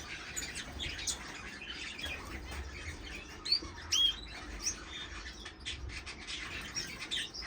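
Firefinches in a breeding aviary give quiet, scattered chirps and tweets against a soft background hum, with a couple of sharper calls standing out midway.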